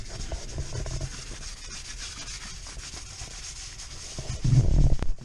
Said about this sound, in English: I'm going to try and get all of the dirt and grime off of here so the paint will stick